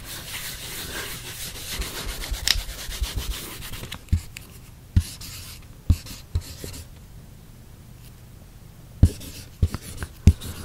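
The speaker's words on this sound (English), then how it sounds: "I'll write it down for you." Pen or pencil scratching across paper while writing out a long answer, continuous scribbling strokes with occasional sharper taps and pauses, close and intimate in a quiet room.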